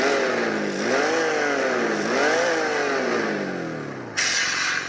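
Meus Racing MS-24 sound simulator on a mini RC crawler in neutral with a two-speed transmission, producing a loud simulated engine that revs up and falls back in repeated sweeps, then shifts to a brighter tone near the end.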